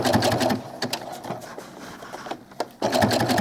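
Sewing machine sewing ribbing onto doll clothes, running in rapid bursts of close, rhythmic stitching that pause and start again, with a quieter stretch in the middle before the machine picks up speed.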